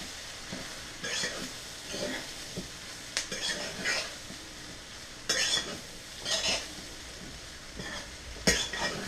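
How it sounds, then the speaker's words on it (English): Quinoa fried rice with peas and carrots is stirred in a pan, giving soft scraping and clattering strokes in short irregular bursts over a faint background sizzle, fairly quiet throughout. "I'm going to give that a stir."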